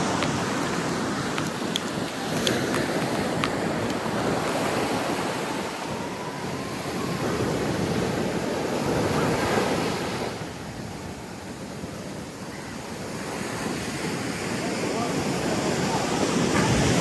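Ocean surf at a beach in Kerala rolls in as a steady broadband roar that swells and eases over several seconds, with wind buffeting the microphone.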